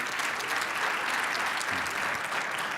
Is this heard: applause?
yes